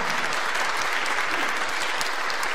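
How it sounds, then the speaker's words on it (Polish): Warm applause at an award gala for a bronze sculptor present in the hall: a dense, loud, even wash of many hands clapping, continuous from start to finish. "Gorące brawa"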